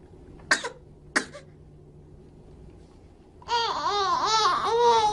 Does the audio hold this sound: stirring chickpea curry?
no